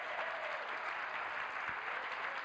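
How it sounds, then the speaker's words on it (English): Audience clapping in a room, a dense and even burst of applause that carries on steadily for a couple of seconds at moderate distance. "Just give him a little applause."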